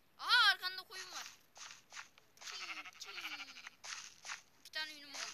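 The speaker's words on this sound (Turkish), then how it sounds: "Aa arkanda koyun var." Sheep in a video game give several short, wavering bleats, the loudest at the start and another near the end, mixed with footsteps and game effects.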